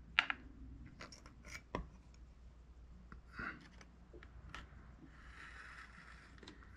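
Material being cut for a gun belt fringe, heard as a few snipping and rubbing strokes with quiet handling noise between them, close and faint with no talk.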